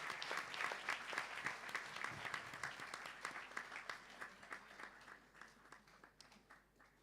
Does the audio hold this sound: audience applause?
yes